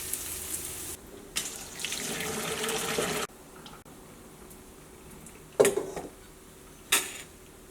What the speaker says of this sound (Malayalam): ചോറ് ഊറ്റിട്ട് കേട്ടോ